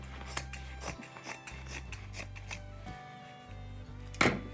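Scissors snipping off extra fabric on a snowman decoration, several crisp close cuts in an uneven rhythm over a low steady hum, with a louder final snip near the end.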